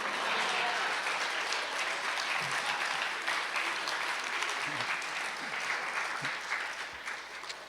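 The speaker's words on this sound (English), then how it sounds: "This is where you clap." An audience claps steadily for several seconds in a room, with dense applause that stays even and then thins slightly toward the end.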